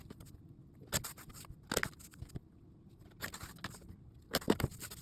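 Scissors cut through a section of quilt fabric in a few separate crisp snips spaced across the moment, each a short dry crunch, close and clear against a quiet background.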